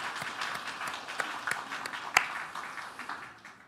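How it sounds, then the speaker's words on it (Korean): A church congregation gives scattered, moderately distant applause for an engaged couple, with uneven individual claps over a quiet hall and one sharper clap near the middle. "결혼 잘하고 신앙생활 잘할 수 있도록 우리 박수로 격려하겠습니다."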